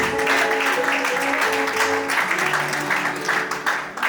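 A church congregation claps steadily throughout an anniversary celebration service, dense continuous applause with a musical accompaniment underneath, loud and sustained for the whole stretch.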